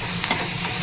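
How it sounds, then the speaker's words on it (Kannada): Curry leaves and a red chili sizzle in hot oil for a tempering, a brief burst of crackling, hissing frying with some stirring, close and loud. "ಕರಿಬೇವು, ಒಂದು ಕೆಂಪು ಮೆಣಸಿನ್ಕಾಯಿ ಒಗ್ಗರಣೆಗೆ ಇದೆಲ್ಲ ಹಾಕಿ ಚೆನ್ನಾಗಿ ಮಿಕ್ಸ್ ಮಾಡ್ಕೊಂಡ್ಬಿಡೋಣ"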